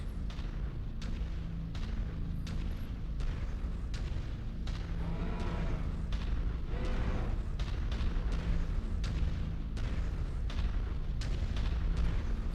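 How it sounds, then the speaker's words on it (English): Gunfire in MechWarrior 5 pounds at the player's mech, a steady run of booming, artillery-like shots and sharp cracks repeating across the whole stretch over a dense rumbling battle din, with no talk. "What is shooting at me?"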